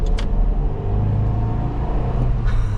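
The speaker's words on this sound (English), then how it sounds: "Again, we're still going flat out." An old Suzuki Jimny over twenty years old driven flat out, heard from inside the cabin as a loud, steady low engine drone and road rumble, with a couple of brief higher noises near the start and end.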